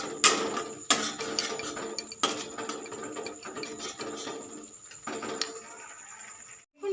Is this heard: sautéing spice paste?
yes